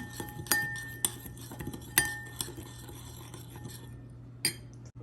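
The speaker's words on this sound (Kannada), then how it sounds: "ಸೊ ಇದನ್ನೆಲ್ಲ ಚೆನ್ನಾಗಿ ಮಿಕ್ಸ್ ಮಾಡೋಣ" A metal spoon clinks and scrapes against a bowl while pizza topping ingredients with kalonji black seeds are mixed, giving sharp, bright taps at irregular intervals over quiet scraping, close and fairly soft, with no talk.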